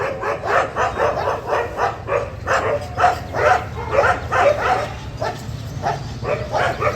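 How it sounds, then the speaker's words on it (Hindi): A pack of dogs barks in repeated short bursts, fairly close, with yips mixed in. The barking continues in an uneven rhythm over a low background hum. "सामने डॉग्स का झुंड है, ये यहीं रुक गया।"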